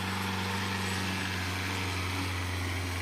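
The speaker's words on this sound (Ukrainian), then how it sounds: "Ось такий саморобний трактор." A small engine on a homemade rear-wheel-drive tractor idles steadily, a continuous low mechanical drone with no voices.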